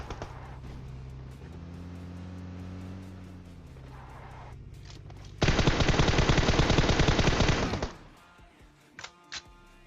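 A rapid burst of automatic gunfire in PUBG lasting a few seconds, loud and dense, preceded by engine drone and followed by a few scattered shots.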